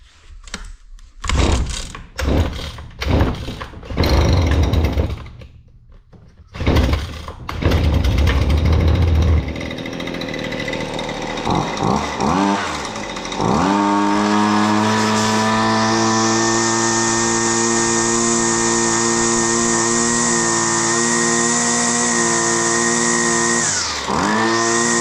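A new gas string trimmer is pull-started with the choke up: several sharp recoil yanks and sputters, then the small two-stroke engine catches and settles into a loud, steady high-pitched drone that dips briefly near the end.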